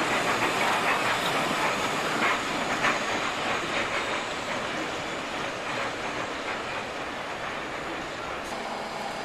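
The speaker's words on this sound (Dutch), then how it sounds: "En op spoor 11 komt de 692 doorgereden." Train 692 rolling in on track 11 at a station on the Maastricht-Liège line, a steady, fairly distant rumble with hissing and faint rail clatter, continuous throughout.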